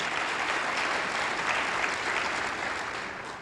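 Audience applause in a large hall during a speech on representing Israel at the UN, a loud, even wash of many hands clapping throughout with no pause.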